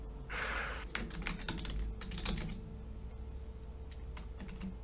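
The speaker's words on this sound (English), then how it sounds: "he's typing" Someone types on a computer keyboard in quick, irregular bursts of clicking keys, close and fairly quiet over a low background hum.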